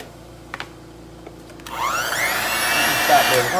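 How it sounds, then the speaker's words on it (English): An electric mixer starts up partway through, whirring steadily as it creams butter and sugar in a hot home kitchen. It runs continuously and fairly loudly to the end, preceded by a few faint knocks. "we're gonna cream this butter and sugar together"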